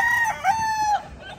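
A fighting cock crows once at close range on a small Philippine game-fowl farm in Calamba, Laguna, a strong drawn-out call with a rising then falling tone, ending abruptly with faint background noise after.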